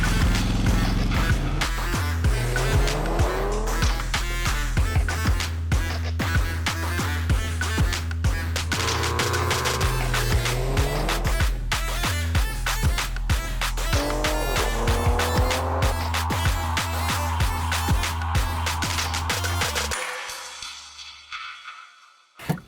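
A 575 hp Kia EV6 GT electric car launches in GT mode, with a loud, rising electric whine and tire noise building steadily over about twenty seconds before cutting off abruptly.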